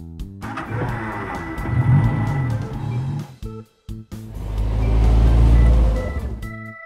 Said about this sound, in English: Convertible car.